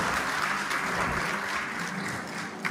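A crowd claps at a memorial trust education event in a hall, with steady, dense applause that carries at full strength the whole time and ends in one sharp final clap.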